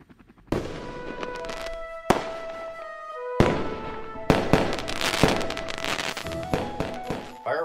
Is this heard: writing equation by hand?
no